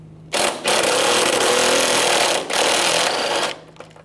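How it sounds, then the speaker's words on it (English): Power tool driving a 10mm socket to remove bolts beneath a 1996-2002 Toyota 4Runner, a loud, continuous buzzing whir that starts abruptly, dips briefly near the middle and cuts off at the end. "Use a 10mm socket."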